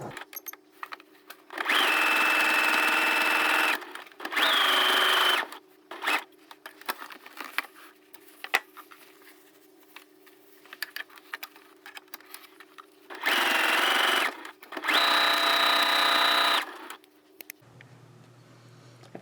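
A sewing machine stitches through a quilted placemat being turned into a crossbody bag, running in several loud, steady whirring bursts of a few seconds each, separated by quieter pauses with small handling noises.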